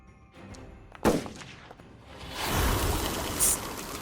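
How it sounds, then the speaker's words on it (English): A gunshot sound effect rings out during a tabletop D&D session, a single sharp loud crack followed by a rumbling burst of noise about a second and a half later. "Why is it making a gunshot noise?"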